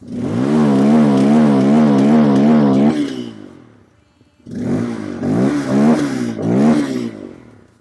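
A Bajaj Pulsar motorcycle engine revs hard in pulsing bursts, drops away to near silence, then revs again in several sharp, throaty surges through its exhaust.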